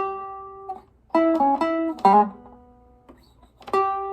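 An electric guitar plays a variation on a Chicago blues turnaround, with a few short bursts of picked notes and double stops separated by quiet gaps. The notes are close and clear, with a final ringing chord.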